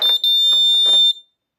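A steady, piercing electronic buzz from a railway track safety sensor alarm at a science exhibition, loud and close, sounding continuously for about a second before cutting off, with faint voices underneath.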